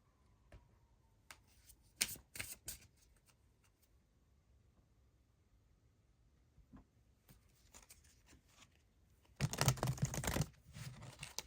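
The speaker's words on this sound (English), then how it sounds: "let's get you a few cards from the Wicca Oracle" Wicca Oracle cards being shuffled for a tarot reading, scattered soft card flicks and taps followed by a loud, dense riffle burst near the end, close and without speech.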